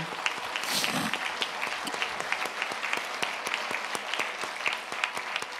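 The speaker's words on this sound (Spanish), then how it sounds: "Demos un aplauso a este matrimonio precioso" A church congregation applauds a married couple during a sermon: steady, even clapping from many hands, with a brief voice near the start, then rhythmic clapping continuing at moderate volume.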